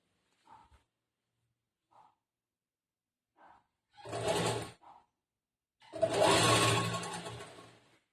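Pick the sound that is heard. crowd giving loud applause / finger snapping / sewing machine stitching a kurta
sewing machine stitching a kurta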